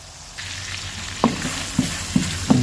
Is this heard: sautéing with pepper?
yes